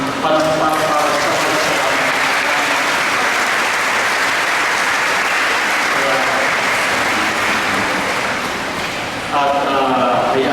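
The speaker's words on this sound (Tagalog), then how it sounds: "bigyan natin ng bawat isa ng isang palakpak" A church congregation claps during an evening worship service, a loud sustained wash of applause that dips slightly near the end, with a voice speaking over the clapping at the start and again at the close.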